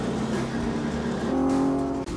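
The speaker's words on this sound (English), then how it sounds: "You really feel like when the revs start to pick up," A 1961 Ferrari race car with a 120-degree V6 engine and six-speed gearbox revs up with a loud, sustained, rising engine note heard up close, a faint voice mixed underneath.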